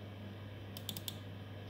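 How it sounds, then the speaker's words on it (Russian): A computer mouse double-click on a desktop icon to start a CNC control program, two quick faint clicks close together over a steady electrical hum. "Двойной щелчок."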